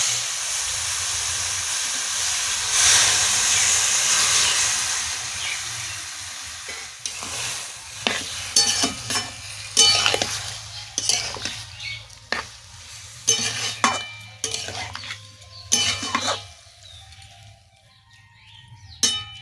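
Chicken stock poured into a broccoli chicken stir fry and left to bubble, starting as a loud steady hiss of steam and sizzle, then giving way to sharp intermittent bursts of spattering and clinking in the pan.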